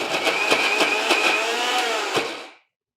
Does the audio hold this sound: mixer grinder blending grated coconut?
yes